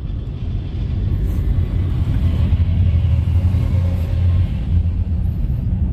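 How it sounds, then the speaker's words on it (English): Two wood chippers run at a roadside tree-trimming job, a loud, steady low rumbling drone with a faint grinding hum, heard close and continuous, as if from a passing car. "Oh, they got two chippers."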